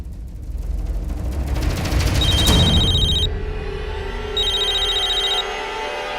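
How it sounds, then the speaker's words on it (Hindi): A telephone rings in two electronic bursts of repeating high tones over dense low background sound, close and fairly loud, with no talk. "मेरा नहीं, निशी का फोन बज रहा है।"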